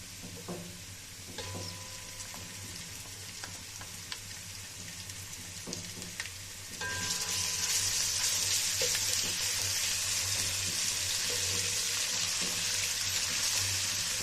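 Soft background sizzling in a pan, then a sudden louder crackling sizzle as garlic-ginger paste is added, continuing steadily with occasional stirring.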